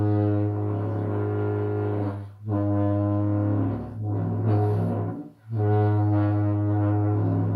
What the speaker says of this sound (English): What I mean is very easy to be doing a toot or any other sound, and just by moving the mouth a bit, the sound goes away.